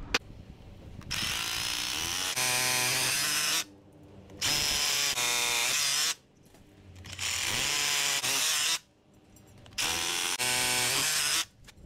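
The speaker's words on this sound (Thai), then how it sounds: "เราก็จะใช้สว่านโรตารี่นะครับในการเจาะ" A rotary hammer drill boring anchor holes to fix the base of a remote-controlled gate motor, running in four long, loud, steady bursts of buzzing grind separated by brief pauses.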